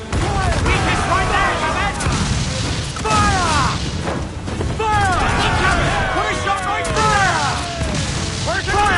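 Ship cannons in an Assassin's Creed Black Flag naval battle fire in rolling, booming volleys, loud and continuous, while crew members shout throughout.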